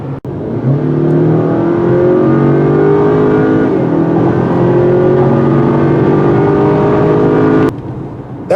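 A 2020 Acura RDX pulls hard along tight mountain curves, its engine note climbing and dropping through shifts as a sustained loud cabin drone with tire and road noise, ending abruptly.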